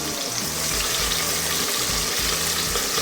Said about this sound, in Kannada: ಈರುಳ್ಳಿನ ಚೆನ್ನಾಗಿ ಇದರಲ್ಲೇ ಫ್ರೈ ಮಾಡ್ಕೋಬೇಕು.